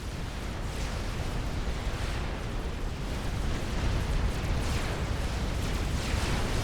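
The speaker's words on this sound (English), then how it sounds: "we've got our first tactical missile that we've seen" Tactical missile explosion in a 6v6 real-time strategy game, a dense continuous roaring rumble of blasts and crackling debris that holds loud throughout.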